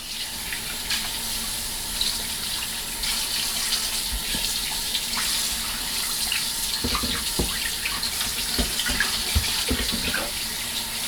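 Tap water runs steadily into a kitchen sink while oxtail is rinsed for a Jamaican stew, a constant close splashing stream with occasional thuds and clatters of handling.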